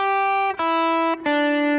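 Guitar picks a short scale pattern backward, each clean sustained note ringing clearly before the next lower one in a slow, descending sequence, played alone.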